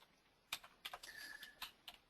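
A few quiet, close keystrokes on a computer keyboard, short clicks in uneven bursts, as HTML heading code is typed in a silent room.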